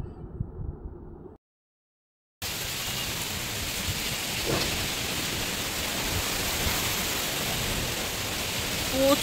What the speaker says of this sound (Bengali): প্রচন্ড ঝড় উঠেছে, ভাবা যাচ্ছে না।